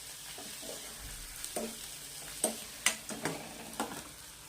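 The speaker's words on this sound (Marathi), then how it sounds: "याला असं छान प परतून घ्यायचं आहे" Coriander chutney mixture being sautéed with red chili powder in a pan, a soft steady sizzle broken by several sharp scraping stirs that grow more frequent toward the end, close and without talk.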